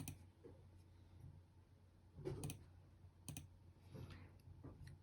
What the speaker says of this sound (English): It's hard to type with one hand here.